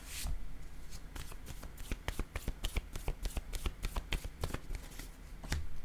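Tarot cards are shuffled by hand before one card is drawn. Rapid crisp riffling and slapping clicks sound close by for several seconds, with no speech.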